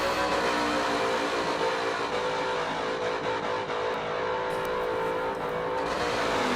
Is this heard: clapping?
no